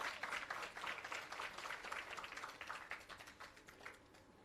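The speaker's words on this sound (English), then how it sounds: "Let's keep the applause going, ladies and gentlemen." Quiet but steady applause from an audience at an employee service awards ceremony marking a trade board's anniversary, a dense patter of clapping that eases slightly toward the end.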